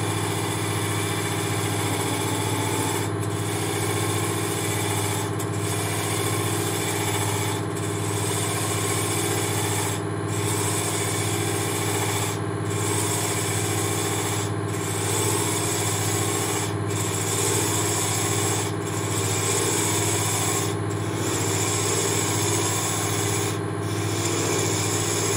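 Wood lathe spinning a goblet blank while a spindle gouge cuts into it, a steady droning hum with a continuous scraping rub and regular soft pulses every couple of seconds, close and loud with no talking.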